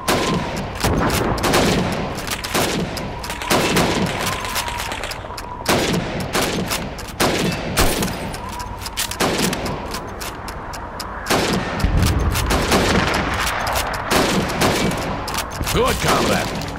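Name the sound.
rifle gunfire shooting helmets in Call of Duty 2 video game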